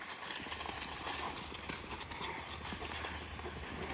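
Donkeys walk on a farm, their hooves clip-clopping in a dense, steady patter under a loud, continuous outdoor background noise.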